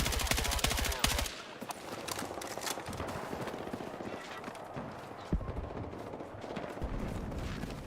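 Gunfire in the shooter Battlefield 6, dense rapid bursts of automatic shots at the start, then scattered cracks and rattling under a busy battlefield wash, with heavier bursts returning near the end.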